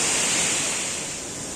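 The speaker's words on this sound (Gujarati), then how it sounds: "સામે પાણીનો ધોધ વહેતો" A waterfall at Batheswar camp site in the Gir jungle rushes in a steady, broad roar of falling water, loud and close, fading slightly toward the end.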